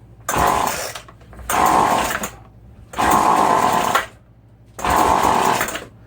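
A yard sale weedeater's small two-stroke engine on half choke catches in four short, loud revving bursts, each dying away after about a second with brief gaps between.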